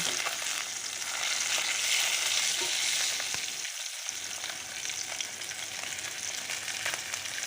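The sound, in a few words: bahu fish frying in a wok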